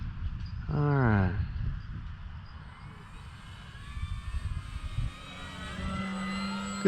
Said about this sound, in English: Good looking plane.